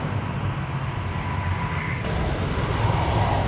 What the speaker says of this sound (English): Conveniently, we got another plane taken off.